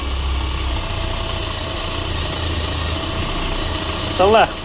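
A cordless LEADER drill bores with an 18 mm spade bit on second speed, giving a steady, fairly loud motor whine that runs throughout. A voice speaks briefly near the end.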